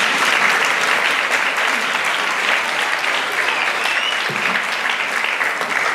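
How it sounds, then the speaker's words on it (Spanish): An audience at the presentation of the Laredo Battle of Flowers festival gives the town's mayor a loud, dense round of applause that holds steady for several seconds, with no one talking over it. "Un aplauso para el alcalde."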